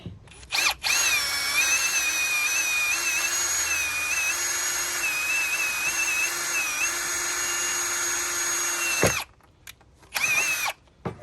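A power drill bores a pilot hole for front metal grab bars on a Jeep TJ, running steadily and loud for about nine seconds with a whining pitch, then stopping and giving a couple of short bursts.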